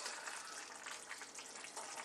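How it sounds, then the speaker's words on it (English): A pot of creamy garlic chicken and potato stew bubbles and sizzles steadily on the stove, a dense continuous close simmer with no pauses. "this is bubbling away beautifully"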